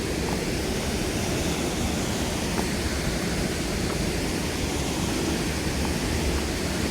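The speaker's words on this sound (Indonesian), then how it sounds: "Agak gimana ya lihat air terjun kayak air terjun lagi hujan gini teman-teman." A waterfall in a forested spot pours down in rainy weather, making a loud, unbroken rush of white noise that stays even throughout with no pauses.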